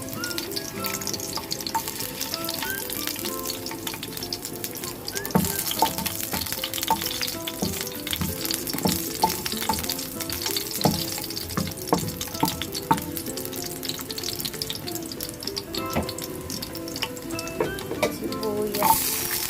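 Garlic fries in a hot pan for the Ilocano dish pinablad, a loud continuous sizzle close up with occasional stirring clatter throughout.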